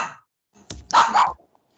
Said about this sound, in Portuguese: Prende o cachorro aí.